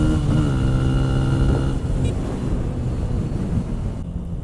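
Benelli TNT 135 motorcycles, 2018 models, accelerate together in a drag race, their small engines revving loud and close with a rising whine, wind rushing over the microphone throughout.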